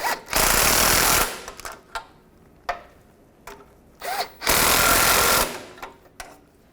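A power tool tightens catalytic converter bolts on a 2007-2014 Chevrolet Silverado 2500 HD, with two loud close whirring bursts of about a second each, separated by sharp metallic clicks and knocks, with no talk.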